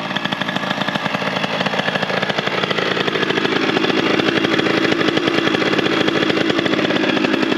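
A 70cc AM6 moped engine running during break-in, a close, raspy two-stroke buzz with rapid, even firing pulses, idling and revving slightly, growing a little louder toward the end.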